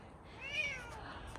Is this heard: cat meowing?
yes